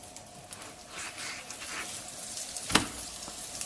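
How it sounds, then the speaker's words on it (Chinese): A triangular savory flatbread pan-frying over medium-low heat gives off a soft, steady sizzle and crackle throughout, with one brief sharper tick near the end. "全程我们开中小火烙饼，烙制的过程中给它转动一下饼，让饼受热均匀。"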